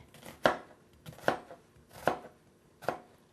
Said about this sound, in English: And then I'm going to turn the onion, and then I'm just going to chop